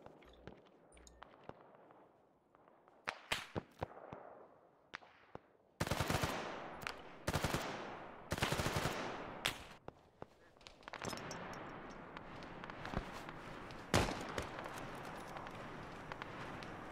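Heavy gunfire in ARMA 3 military combat, with scattered single shots giving way to sustained loud automatic bursts from about six seconds on, several near sharp cracks and a dense continuous firefight in the background.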